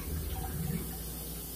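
Steady faint rush of water running into a siphon during beer transfer between a secondary fermenter and a keg, continuous with no talk.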